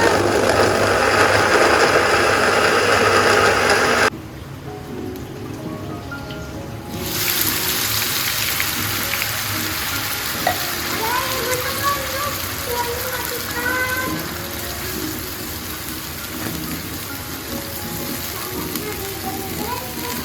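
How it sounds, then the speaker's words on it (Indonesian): Steady rain falls outside a home kitchen, a dense hiss broken by a short quieter gap, with faint clinks and cooking sounds over it and a voice speaking now and then. "Hujannya masih awet, udah gagal total ya niatan aku untuk libur masak hari ini."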